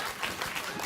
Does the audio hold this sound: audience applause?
yes